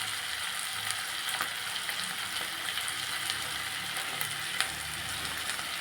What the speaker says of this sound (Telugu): వేగుతుంది కదా.